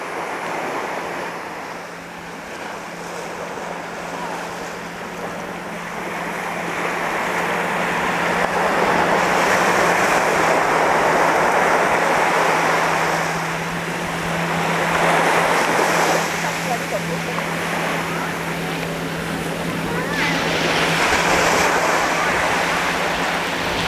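Surf rolls onto Surin Beach in steady, broad swells that rise and fall every few seconds, fairly loud and close, with some wind in the background and no voices.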